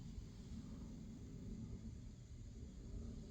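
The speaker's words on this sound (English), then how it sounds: "You hear that plane going over?" A faint airplane flies over a house in Cincinnati, heard as a steady, low, distant rumble beneath a quiet background hiss.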